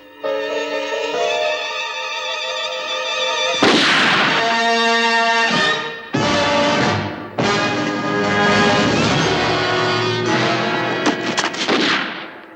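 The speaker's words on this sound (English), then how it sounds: "sounded like shots." Several sharp gunshot-like bangs crack out at intervals, loud and fairly close, over a sustained humming drone with no talking.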